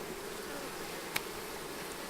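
A soft, continuous drone of honeybees at a hive hums steadily in the background, with one brief sharp click partway through.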